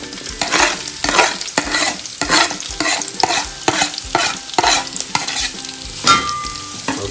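Sliced big onions frying in a pan for chicken curry, stirred in a brisk repeating rhythm of loud scraping strokes over a constant hot sizzle, close up, with a brief word spoken near the start.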